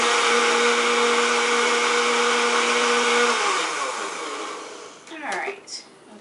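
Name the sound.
blender blending Kahlua and cream cheese drink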